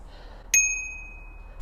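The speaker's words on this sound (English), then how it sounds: "Ooh, I got a bell." A single bright mountain bike bell ding rings out sharply and lingers with a clear, slowly fading tone against a quiet background.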